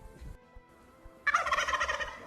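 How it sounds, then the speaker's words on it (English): A turkey gobble sound effect starts abruptly after a quiet stretch and runs as a loud, rapid warbling burst played over a gaming stream, with no talking. "That's gobble gobble."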